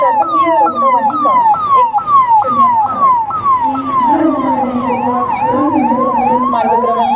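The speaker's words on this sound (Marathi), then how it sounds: "त्यानंतर शासकीय रुग्णवाहिका" Siren of a government 108 ambulance passing in a police headquarters parade, loud and near, cycling in rapid sweeping wails while a second siren tone overlaps and shifts over road rumble.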